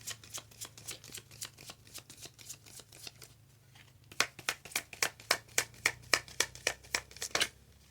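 Oracle cards for a tarot reading are shuffled in a rapid, rhythmic series of crisp riffling snaps close by, softer at first and then louder and more regular, with no talk.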